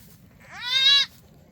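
A newborn baby goat on a farm gives a single clear, close, rising bleat lasting about half a second against quiet surroundings.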